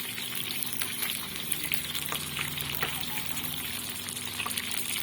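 Tilapia with fish sauce sizzles and crackles steadily in a hot pan, a dense continuous frying hiss with faint pops and no talking.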